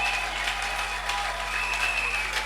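A church congregation applauds and cheers for Jesus in sustained, dense clapping that fills the hall at an even loudness, with voices mixed into the crowd.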